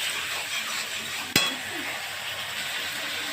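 Potatoes dropped into a spice paste frying with tengra fish bring a steady, loud sizzle with one sharp clack as they hit the pan.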